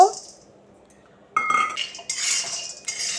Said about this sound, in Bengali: বেশ খুন্তি দিয়ে ভালো করে নেড়ে নিতে হবে